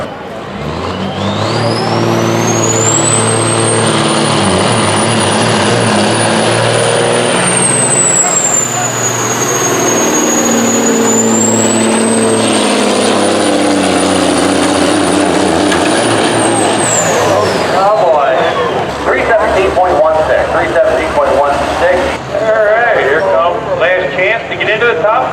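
A 2016 Diamond Rio semi truck engine pulls at a truck pull event, roaring loud and sustained with a high whine rising and holding, under continuous announcer talk, then rougher, choppier engine noise at the end.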